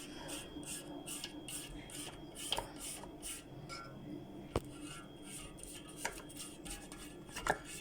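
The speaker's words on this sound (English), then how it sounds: "Already scraped the lid, so I'm just scraping the sides." A spatula scrapes around the sides of a blender jar holding sea moss gel, producing quiet, repeated scraping strokes dotted with a few sharp clicks against the jar, with no talking.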